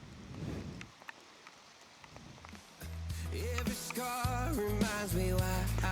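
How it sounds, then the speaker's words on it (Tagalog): Rain on a forest road beside untouched trees during a motocamping ride, building from a light patter to a heavier steady wash, with a person talking over it in the second half. "lumalakas ng ulan"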